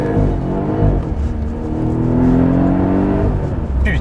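A Mercedes E 63 AMG engine revs hard under acceleration, with a loud, rising growl climbing through the gears and a brief shift break near the start.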